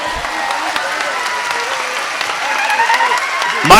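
A crowd at a kirtan claps in a dense, steady burst of applause that swells toward the end, with a voice speaking over it.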